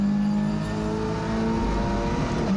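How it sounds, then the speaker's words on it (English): A TCR touring car engine held at full throttle on an onboard lap of Circuit Paul Ricard, a steady loud drone with a strong harmonic whine that holds nearly constant pitch. "Early full throttle, because everything after here is full throttle onto the main straight."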